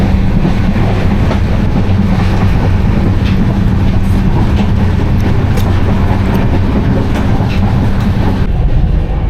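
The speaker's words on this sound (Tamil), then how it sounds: "ட்ரெயின் இப்போ விருதுநகர் தாண்டி போய்ட்டு இருக்குங்க." Inside the 12622 Podhigai SF Express, running from Tenkasi towards Chennai past Virudhunagar, a loud, constant rolling rumble with rattling carriages and faint clickety-clack fills the whole stretch, with no voices.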